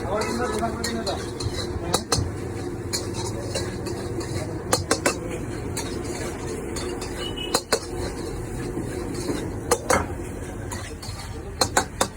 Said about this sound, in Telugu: సో ఇప్పుడు పన్నీర్ ఫ్రై మ్యాగీ చేస్తున్నారు